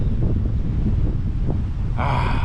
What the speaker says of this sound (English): forgive the wind because it's blowing